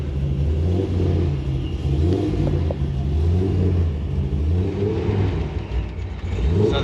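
A 1967 Chevelle, all original and sitting since 1987, idles with a steady low engine rumble and slight revving, close and continuous throughout, with no talk.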